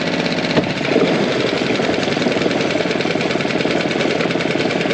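Tohatsu 6hp outboard motor idling steadily up close, a loud continuous buzzing putter with a quick rhythmic pulse and no voices over it.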